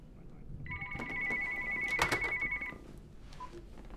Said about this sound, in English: His phone has been ringing off the hook.